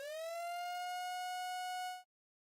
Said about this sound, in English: hearing the sirens go off constantly to let me know that there's more tornado warnings